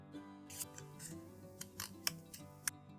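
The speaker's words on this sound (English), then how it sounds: "I think I'm going to just cut this triangle out" Scissors snipping through card to cut out a triangle, a handful of short crisp cuts spaced irregularly, close and fairly quiet with no talking.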